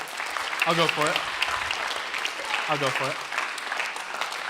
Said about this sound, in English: That's worth a clap.